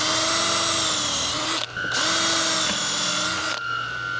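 A power drill boring a hole into a ski while mounting bindings, whining at a steady high pitch that dips under load, stops briefly, then spins up again for a second sustained run, close and loud.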